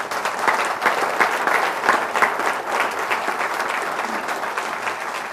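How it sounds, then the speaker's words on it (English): A school district audience claps steadily in a hall, a dense, even burst of hand claps sustained at moderate loudness for several seconds with no voices over it. "Now that deserves a round of applause"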